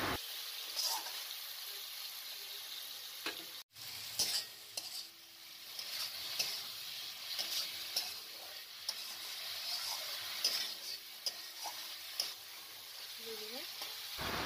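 Spices and masala fry and sizzle steadily in a pan while a spoon stirs and scrapes them, for a Bengali duck egg curry being cooked down; a soft knock and occasional clinks sound over the continuous close sizzle.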